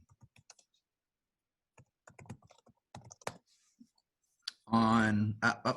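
Computer keyboard typing comes in scattered bursts of quick clicks between stretches of a man's speech, with a louder voice near the end.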